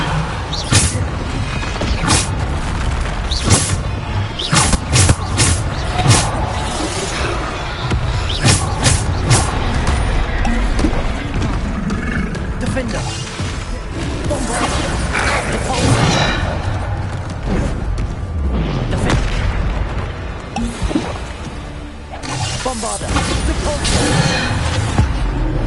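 Bombarda and Depulso spells cast in the video game Hogwarts Legacy: repeated booming blasts and mechanical bursts over continuous game noise, with voices speaking throughout.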